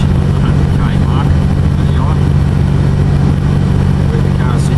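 A car engine hums steadily at about 2,000 revs while driving, a constant low drone with road noise filling the background and no change in pitch.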